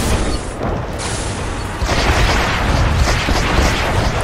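A barracks building explodes in Renegade X with heavy, continuous blasts and rumbling booms. Dense, loud battle noise with gunfire-like bursts carries on throughout, and a second surge of explosions comes partway through.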